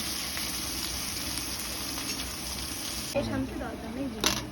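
Chopped onions and cumin seeds fry in hot oil for ghugni, giving a steady close sizzle throughout, with a voice talking briefly over it near the end and a light clatter of stirring.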